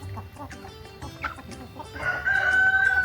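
Layer hens clucking close by in short, uneven bursts, followed near the end by a louder, drawn-out crowing call from a rooster.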